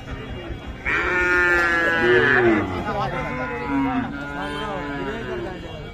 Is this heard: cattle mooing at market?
yes